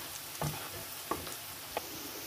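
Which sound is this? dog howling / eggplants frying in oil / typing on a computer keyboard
eggplants frying in oil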